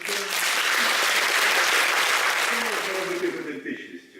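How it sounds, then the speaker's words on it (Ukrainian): A theatre audience breaks into sustained, dense applause for war heroes at a film screening, loud and steady for several seconds before thinning and fading out. "они заслужили ваши аплодисменты"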